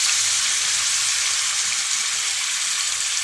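Two large tandoori-marinated chicken leg pieces frying in a hot pan, a steady loud sizzle with dense crackling hiss throughout, close and continuous with no talk.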